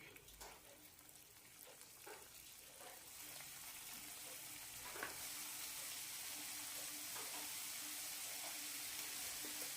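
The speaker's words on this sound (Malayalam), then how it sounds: "എണ്ണ ചൂടായിട്ടുണ്ട് ലോ ഫ്ലെയിമിലേക്ക് ആക്കാം ഇനി ഓരോ ബോളായിട്ട് ഇട്ട് കൊടുക്കാം" Semolina balls frying in oil on a low flame, with a steady close sizzle that grows louder and fuller partway through, plus a few soft clicks of a utensil and no talking.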